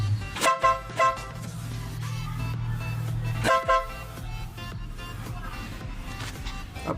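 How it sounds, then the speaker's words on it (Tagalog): Horn of a Honda Mio i 125 motorcycle, sounded in a few short honks followed by a longer blast, loud and close, with faint engine noise between the blasts. "busina"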